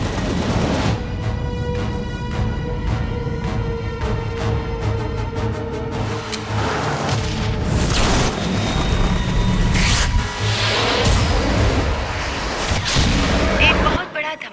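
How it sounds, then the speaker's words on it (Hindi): A huge explosion in an action film scene: a series of heavy booming blasts and rumbling debris roars continuously and loudly, with rapid sharp cracks early on and a muffled voice partly underneath. "एक बहुत बड़ा धमाका हुआ है।"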